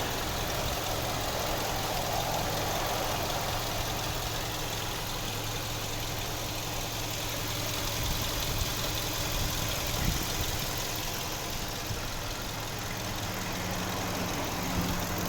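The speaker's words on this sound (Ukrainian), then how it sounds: "Ну, добре рівно працює двигун." A 2008 Audi A3 1.6 MPI petrol engine with automatic transmission idles evenly and steadily, a low continuous hum with no misfires, heard alone without voices.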